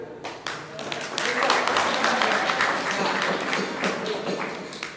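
Audience applause at a wayang shadow-puppet art gathering at a pesantren, a dense steady clapping that swells after a brief start and holds for several seconds, with voices mixed in.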